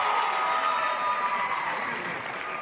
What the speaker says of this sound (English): there she goes waving at the crowd, and the crowd's responding